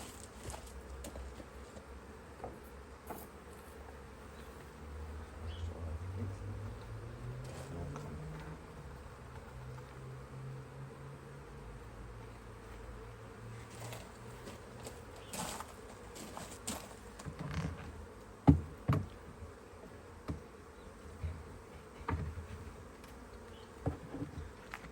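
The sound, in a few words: swarm of honey bees buzzing in a hive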